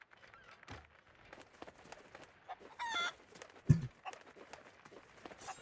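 Chicken clucking in the pirate video game Sea of Thieves, a few short scattered clucks and one sharper squawk, fairly faint and sitting among other game sounds.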